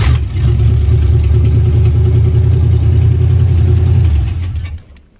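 A Chevy K5 Blazer squarebody's engine runs at a steady, loud, rumbling idle close by, holding even for several seconds before cutting off and fading out.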